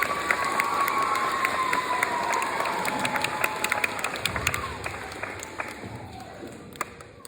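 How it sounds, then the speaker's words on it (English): A crowd at a dance event clapping and cheering for a performer, a steady spread of applause with scattered shouts and whoops, fading slightly toward the end. "Big round of applause for Cactus"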